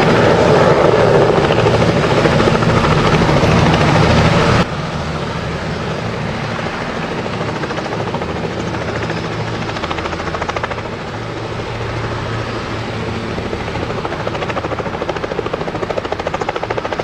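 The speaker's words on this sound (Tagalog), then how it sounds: "May helicopter kay Jumcar, may helicopter sa EDSA." Helicopter flying over EDSA, its steady rotor thrum and turbine whine loud and continuous, slightly louder for the first few seconds and then holding a constant drone.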